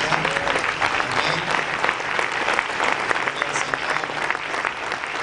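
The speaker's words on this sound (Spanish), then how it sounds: "Le das otra ofrenda de palmas al Señor." A church congregation claps loudly and steadily as an offering of praise to the Lord, dense continuous applause filling the room from start to finish.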